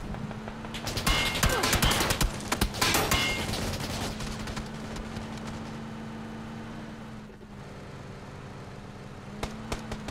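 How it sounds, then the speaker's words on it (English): In PUBG, bursts of gunfire hit the player's vehicle, with rapid, loud shots clustered at the start over a steady engine drone, then easing into idling with a few scattered shots near the end. "but now we're going to take some fire"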